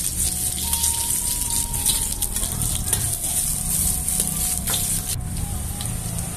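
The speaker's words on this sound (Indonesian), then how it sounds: "Lalu goreng bawang merahnya hingga layu." Sliced shallots frying in a little hot cooking oil for Minang-style mie goreng give off a continuous bright hissing sizzle, steady and fairly close, with a faint thin tone drifting underneath.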